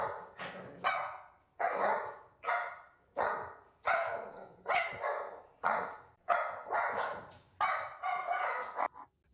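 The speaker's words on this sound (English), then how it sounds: "let's see what it did with our barking dog" An AI-generated barking dog sound effect: a steady run of about a dozen loud, close barks, each sharp bark separated by a brief pause, with no other sound behind it.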